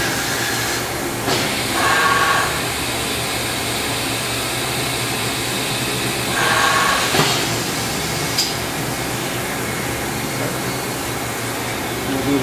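A 2000 Milltronics VM24 CNC vertical machining center runs a bolt hole pattern: a constant loud mechanical hum broken by two brief rising whirs of movement several seconds apart.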